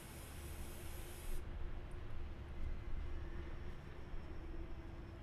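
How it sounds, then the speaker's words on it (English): Nitro Motor Cleaner sprayed onto the clean side of an RC engine air filter for an HPI small block nitro engine, giving a close, steady hiss that eases off after the first second and a half. "Now rinse it with Nitro Motor Cleaner, applying the cleaner to the clean side of the filter."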